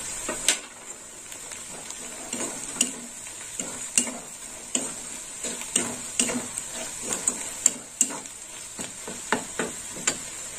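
Red chilli powder, two spoonfuls, stirred into a frying masala in a pan: a series of scraping, tapping spoon strokes against the pan over a faint steady sizzle, with no voices.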